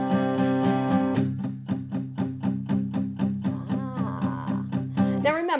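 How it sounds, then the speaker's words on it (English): Palm-muted electric guitar chords play a steady, chugging rhythm for the verse of a song, adapted from piano. The guitar is close, clear and evenly pulsed, with a brief slide at the end. "something that I've been talking about in a lot of my recent videos is palm muting"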